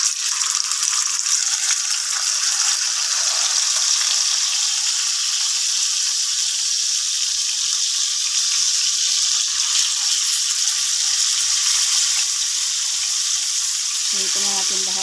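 Fish fries in hot oil with a continuous loud crackling sizzle, close and steady, while a low rattling and faint voice murmur come in partway through.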